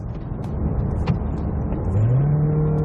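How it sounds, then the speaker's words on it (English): A Mazda CX-30 petrol engine in sport mode revs hard under full throttle, the pitch climbing steadily as it accelerates, loud and close. "on sport mode, if I decide to just floor it"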